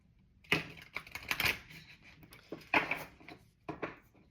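Tarot cards shuffled by hand at close range, giving a series of crisp riffling bursts and soft slaps in irregular clusters, fairly quiet with no talking.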